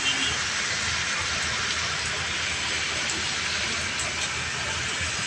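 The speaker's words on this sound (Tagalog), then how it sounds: "Pero may ulan pa rin." Steady rain falls in a dense, even hiss with no wind, heard while sheltering during a sudden heavy downpour on a walk, with a faint rumble underneath.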